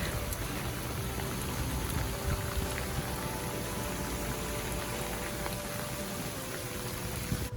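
Heavy rain falls steadily on a sailing boat arriving in Plockton in the Scottish West Highlands, a constant dense hiss of drops with no breaks and no voices.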